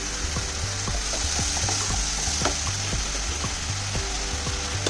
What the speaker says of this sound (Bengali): এই বাটা মশলাটার সাথে এই গুঁড়ো মশলাটাকে কষিয়ে নেব